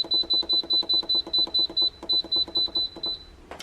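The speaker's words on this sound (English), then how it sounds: "we're going to pressure cook and we're going to set our timer to 35 minutes" An electric pressure cooker gives a rapid run of short, evenly spaced electronic beeps as its 35-minute cook timer is set, about fifteen clear tones close by with a small gap near the end.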